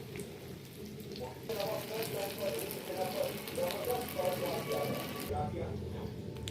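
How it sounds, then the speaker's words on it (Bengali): Sweet potato and chhana pantua balls frying in oil, a soft bubbling sizzle that rises after a quiet start and holds steady, fairly faint and close by. "আগে একটা ভেজে টেস্ট করে নিচ্ছি।"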